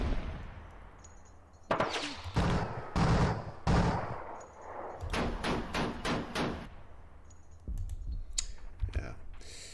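Gunfire sounds from the wargame Panzer Campaigns Kiev '43 come as clustered bursts of sharp cracks and rattling volleys, loud and close, separated by short quiet gaps.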